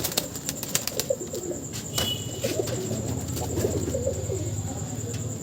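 Pigeons at a loft coo in low repeated throaty calls, with occasional wing flaps and faint clicks, close and steady throughout.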